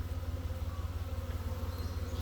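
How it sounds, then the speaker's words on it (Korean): Black hornets buzz steadily at a hornet trap fitted with an automatic feeder, a close, continuous droning hum with a regular wingbeat pulse and no speech. "저놈은 흑말벌."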